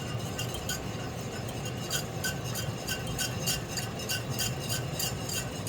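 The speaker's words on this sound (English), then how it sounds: "we're adding it to the stock right here to make the gravy" A spoon stirs cornstarch slurry into chicken stock in a pot to make gravy, giving a steady series of soft scrapes and light clinks with a low simmering hiss, close and without voices.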